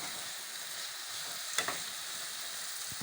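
Food frying in a pan with eggs about to go in, a steady hiss of sizzling oil with a couple of brief stirring knocks in the middle.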